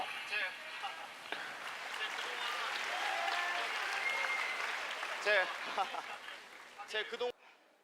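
Crowd applause at a Japanese fight event's award ceremony after a Korean boxer's knockout win, a sustained wash of clapping at moderate distance, with some laughter and brief speech near the end before it cuts off.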